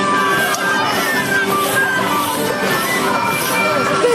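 At the Pukllay 2025 festival, an audience applauds and cheers for the performing artists: a busy, continuous roar of crowd noise with shouts and whistles mixed in and some voices rising above it.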